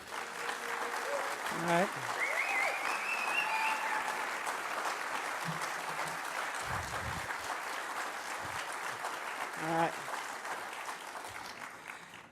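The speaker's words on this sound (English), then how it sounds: "Y'all can continue to clap." Audience applauding graduates of a 2014 machining apprenticeship graduation, steady broad clapping sustained throughout, with a voice speaking briefly over it.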